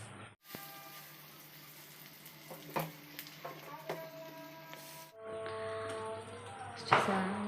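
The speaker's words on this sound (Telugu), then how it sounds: "మసాలాలు పచ్చివాసన అనేది అంతా పోయి మంచి ఫ్రై చేసిన స్మెల్ వచ్చే వరకు ఫ్రై చేసుకొని" Spicy chicken fry sizzling steadily in a pan while being stirred, with a continuous frying hiss, occasional scraping and clinking of the spoon, and a brief pause midway before the sizzle resumes louder.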